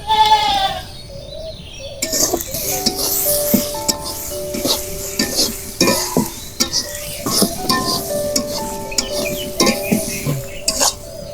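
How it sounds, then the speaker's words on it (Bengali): Dried fish (shutki) frying in a pan with garlic, salt, turmeric and spice powder, with repeated clattering stirring strokes and a soft sizzle close up, preceded by a brief tonal sound at the start. "তো সবগুলোই ভালো করে ভেজে নেব।"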